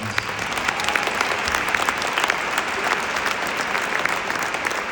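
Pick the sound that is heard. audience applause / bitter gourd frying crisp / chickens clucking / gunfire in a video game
audience applause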